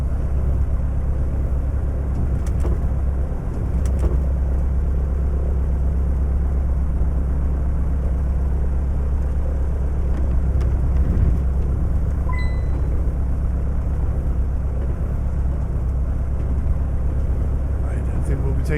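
Bush plane engine in the Deadstick flight simulator, a steady loud droning rumble holding at constant level through a quick takeoff run, with occasional light clicks over it.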